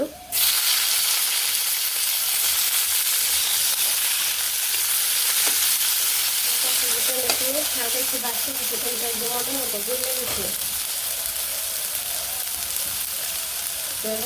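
Onions fry in a pan with a loud, dense, continuous sizzle throughout, a few faint stirring scrapes midway and no talk over it.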